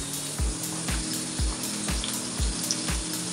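Onion and potato fry in oil in a pan for poha, a steady close sizzle with a faint regular thump repeating about twice a second underneath, no voices.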